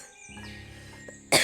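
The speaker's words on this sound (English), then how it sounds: "Josie coughed." A single short, sudden cough bursts out near the end, following a quiet stretch of soft tonal background music.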